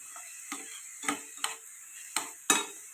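Radish curry stirred in a pan over a slow flame, a spoon scraping and tapping in five or six spaced strokes over a soft, steady sizzle.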